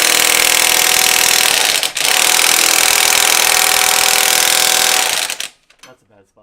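An impact gun rattles continuously and loudly for about five seconds, briefly pausing near the two-second mark, while loosening a crankshaft pulley at the front of a car engine, then cuts off abruptly into quiet.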